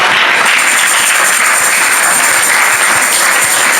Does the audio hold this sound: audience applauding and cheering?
yes